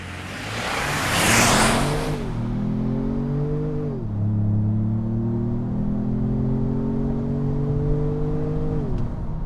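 A 2025 Ford Maverick Lobo with a turbocharged engine launches hard in Lobo mode, its engine note rising loud and close, shifting gears twice as it keeps accelerating.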